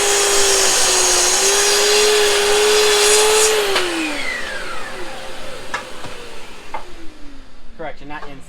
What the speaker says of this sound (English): I'm going to go ahead and do my inside miter